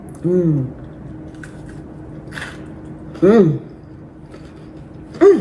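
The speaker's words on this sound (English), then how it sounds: "Did you hear the crunch? I know you heard the crunch." Loud crisp bites and crunchy chewing of crispy cabbage fries in short bursts, with brief voiced sounds between them.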